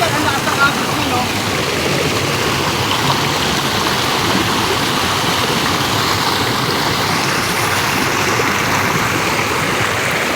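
A strong river current rushes in Mariveles, Bataan, a loud steady broadband wash of flowing water with voices faintly beneath it.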